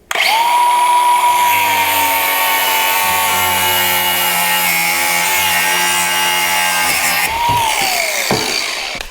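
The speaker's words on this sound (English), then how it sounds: "I'm using a grinder. I used it outside, it works great, and I'm gonna keep using it" Grinder cutting during home electrical work, a loud, steady whine held for about seven seconds, then spinning down and stopping near the end, with no talk.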